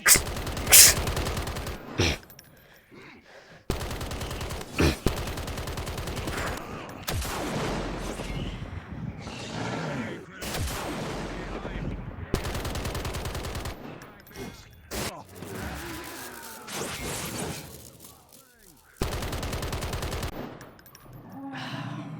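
Repeated loud bursts of gunfire from a video game, broken by abrupt cuts and short quieter gaps, with clustered shots and echoing blasts across a long stretch.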